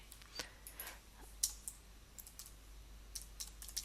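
Sparse computer mouse clicks, faint and close, a scattering of sharp single and double taps at irregular intervals over quiet room hiss.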